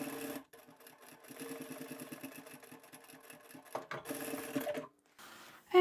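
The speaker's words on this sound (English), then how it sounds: "we'll take that to the machine and sew it closed" A sewing machine stitches a small scrap-fabric coin pouch closed, a quiet rapid mechanical chatter in short bursts with brief pauses between runs.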